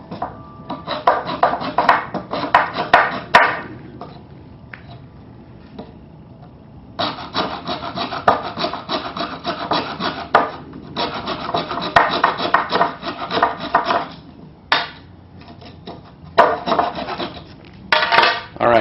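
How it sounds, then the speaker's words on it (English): Hacksaw notching a pipe for a homemade deer protein tube, rasping back-and-forth strokes in steady bursts with short pauses between, close and fairly loud. "let me grab the hacksaw and we'll do that"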